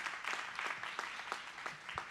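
Audience applause at a Democratic primary candidate forum held by an NAACP branch in Arlington, a steady patter of many hands clapping at moderate distance, sustained throughout without speech.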